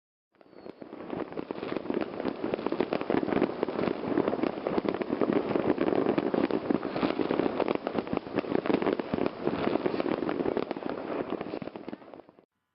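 New Year fireworks in Iceland crackle and pop continuously, a dense, loud barrage of overlapping bursts and crackling that fills the whole stretch without pause, with no voices standing out.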